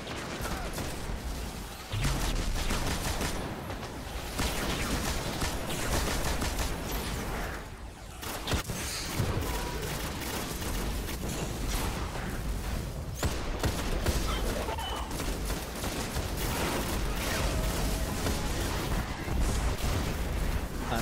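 Dense, continuous gunfire and explosive bursts from combat in the video game Destiny, a strike mission, loud and sustained throughout with only brief lulls.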